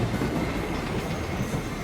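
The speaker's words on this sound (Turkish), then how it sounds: "Ne işe yarıyor bu tren?" A train rolls along in the battle royale game PUBG, giving a loud, steady rumble with rhythmic clatter from the wagons and no voices over it.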